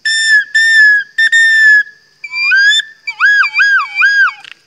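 The lone whistle head joint of a G-scale recorder, blown on its own, gives bright, loud, close piping toots: a few steady notes, then a quick wavering trill.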